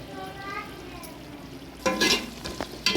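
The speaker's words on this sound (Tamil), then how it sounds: "இஞ்சி பூண்டு பேஸ்ட் வந்து எண்ணெயில் தான் சேர்த்து நல்லா வதக்கணும்" Ginger garlic paste sautés in hot oil for biryani, a continuous soft sizzle with bursts of spoon scraping and stirring against the pan toward the end.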